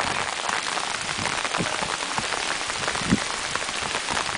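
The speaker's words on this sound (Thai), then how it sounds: "ฝนตก" Steady rain pattering on a rice field, a dense continuous hiss with occasional louder drops close by.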